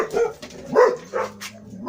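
Dogs bark indoors, a few sharp separate barks spaced out over two seconds, fairly close and clear against a quiet room.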